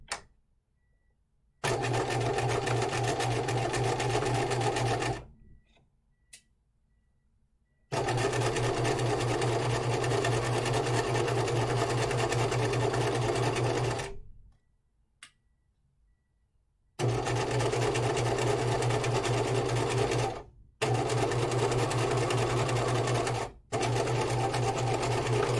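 A sewing machine runs top stitching on a hanten mockup in several long steady bursts, its even motor hum broken by short silent pauses.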